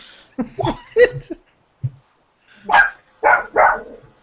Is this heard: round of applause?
no